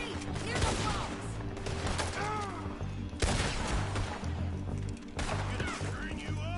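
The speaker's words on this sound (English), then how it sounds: "Hear the bombs!" Red Dead Redemption 2 shootout: rapid gunfire and repeated crashing blasts from bombs, loud and close, with pauses between bursts and voices shouting over the fighting.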